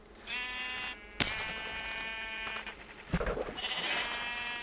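Sheep in a video game bleat repeatedly, close and clear, in several drawn-out calls separated by short pauses.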